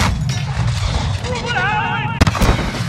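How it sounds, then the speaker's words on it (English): Mortar fire in Call of Duty: Modern Warfare (2019) at an embassy, with booming impacts and gunfire rumbling under shouted voices, a sharp loud blast near the end. "Mortar!"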